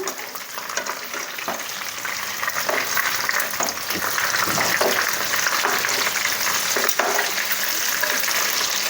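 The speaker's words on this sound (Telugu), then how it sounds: "అన్ని వైపులా ఈ విధంగా ఫ్రై చేసుకోవాలి" Korramenu fish fry in hot oil in a pan, a steady loud sizzle and crackle running throughout, with occasional scraping stirs and turning sounds close by.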